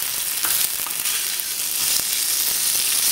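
Steady, loud sizzle of breakfast burrito filling frying in a pan while a spatula stirs it, with occasional scraping strokes, no voices.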